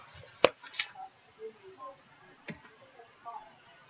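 Computer mouse clicks sound sharp and close at a desk, two or three separate clicks spaced a couple of seconds apart, with faint quiet gaps between them.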